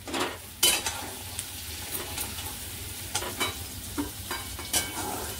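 Spoon scraping cashew masala out of a pan in a few separate sharp strokes, with a low sizzle continuing underneath.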